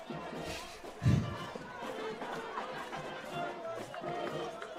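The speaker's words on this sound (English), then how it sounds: "this crowd is feeling this win" A crowd at a high school football game near the end of a close win gives a steady murmur of cheering and chatter with one brief louder swell, heard from a distance.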